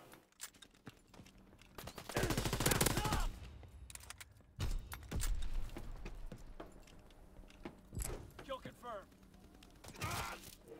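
Rapid bursts of gunfire from the Call of Duty WWII multiplayer game, several loud volleys with short gaps between them, a rifle fired at range amid battle noise and mechanical clatter.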